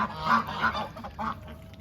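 Domestic geese and ducks on a farm give several nasal honks and quacks in quick succession, moderately close, with no talking.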